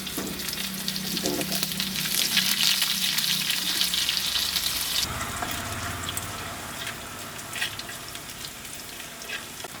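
Onions frying in hot oil for a mango and dal curry, a strong continuous sizzle up close that shifts in texture halfway through as stirring continues, with no talking.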